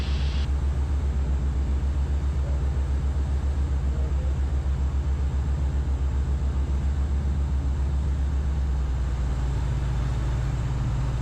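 A twin-engine Piper Aztec drones loudly and steadily from inside the cockpit as it lands and rolls out on the runway at Teterboro, a constant low rumble that holds without a break.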